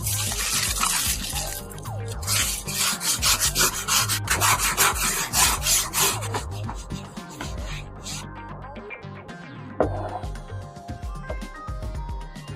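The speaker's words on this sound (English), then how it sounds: "the patches of rust that I will now take care of with sandpaper" Sandpaper scrubs rust off steel clamp bars in quick repeated strokes, a close, gritty rasping that is busy at first, then eases into sparser scraping and light metallic touches.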